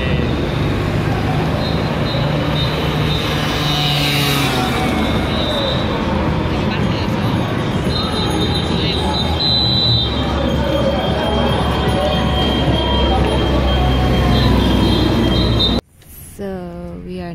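Continuous loud rumble and rattle of a night train to Lisbon in motion, with faint squealing tones riding on top, ending abruptly.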